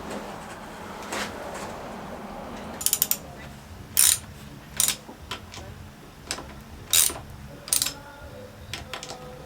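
A ratchet clicks in short, sharp bursts as it tightens a motorcycle phone mount, several separate runs of ratcheting close up against a quiet background.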